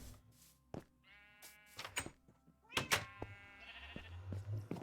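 Sheep on a Minecraft Bedrock farm bleat several times in short, wavering calls, with a few soft thunks between them, fairly quiet and without speech.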